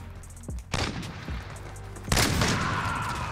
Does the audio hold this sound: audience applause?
no